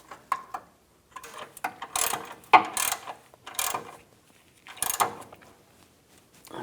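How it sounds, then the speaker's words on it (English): Ratchet wrench tightening a nut while fitting an air suspension compressor on a 2007-2014 Cadillac Escalade ESV, heard as several short, close bursts of clicking separated by brief pauses. "Snug those down and tighten this nut down."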